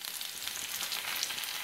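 Food sizzling in heated oil, a steady bright frying hiss that runs unbroken and fairly quiet the whole time.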